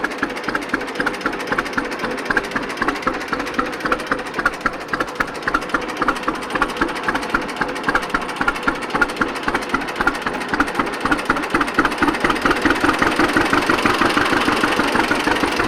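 An antique tractor engine idles slowly at about 400 RPM, a steady, evenly spaced chugging beat of distinct firing pulses, close and moderately loud with no talk.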